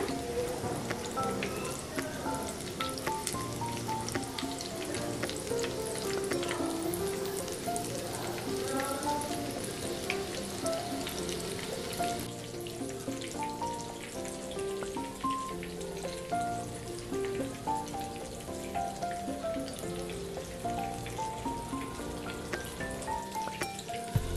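Crispy cheese balls made from raw potato deep frying in hot oil, a dense continuous crackling sizzle held at an even level throughout, faint musical tones underneath, no speech.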